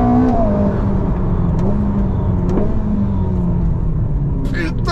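A Ferrari sports car engine revs and roars loudly from close range, a sustained throaty drone with shifting pitch as it accelerates, with brief voice sounds near the end.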